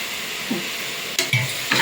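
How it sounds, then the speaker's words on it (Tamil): Mushrooms being stirred with masala in a pan for mushroom biryani, with a soft sizzle under a few short scraping strokes of a spoon against the pan. "நல்லா கலந்துக்கிறேன்"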